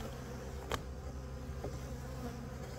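Bees buzz around a hive up close, a dense continuous hum with a couple of brief sharper clicks or knocks standing out.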